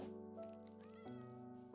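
A cat meows in the Minecraft video game, two drawn-out tonal meows one after the other, clear and alone.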